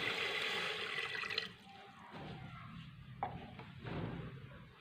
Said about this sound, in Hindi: आधा गिलास हम इसमें पानी डाल देंगे।